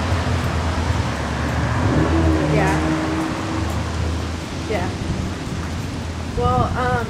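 Steady, loud rain falling outdoors, a dense hiss throughout with a low rumble beneath, while a person talks faintly in the background.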